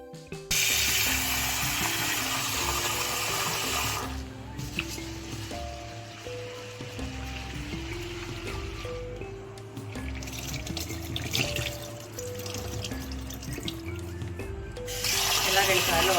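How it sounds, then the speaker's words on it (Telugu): Pearl millet and black gram are washed in water in a bowl, producing swishing, sloshing and trickling that run steadily throughout while someone talks over them. "వాటర్ వేసుకుని వాష్ చేస్తాను."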